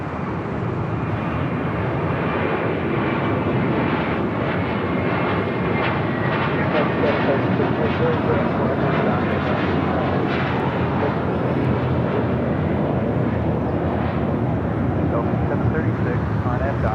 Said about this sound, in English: The Asiana A380 Super continuing taxi there on Bravo.